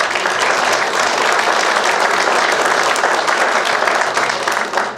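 An audience at a county commissioner debate in Elbert County, Colorado, claps steadily and loudly, a dense even wash of applause that tapers slightly at the end.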